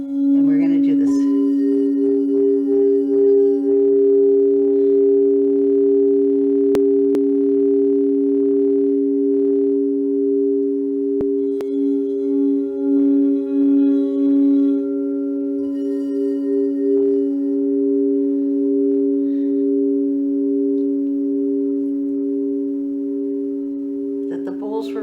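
Crystal singing bowls ring with a steady, sustained hum of layered pure tones that waver and pulse gently for the whole stretch, loud and close, with faint background sounds but no speech.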